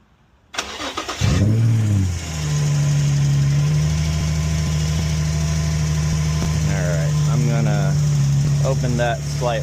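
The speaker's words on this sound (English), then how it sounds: "Alright, go ahead and start the car" A 2004 Infiniti G35 cranks with a short whir and catches, its engine revving up sharply before settling into a steady, close idle. A person speaks briefly near the end.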